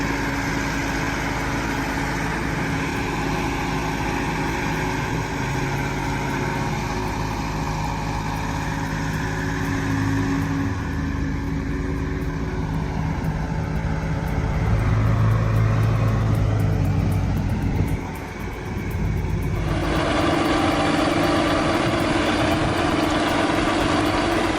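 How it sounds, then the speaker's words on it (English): A John Deere 6830 tractor engine works hard at a steady, loud roar, its pitch rising and shifting as load changes, with a brief dip and a return to full power near the end. "that JD 6830 just put on one hell of a power show"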